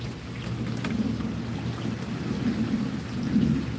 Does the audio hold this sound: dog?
no